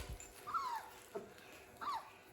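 A four-week-old puppy from a litter whimpers close by, two high, drawn-out falling whines about a second apart with a faint yip between them, no talking.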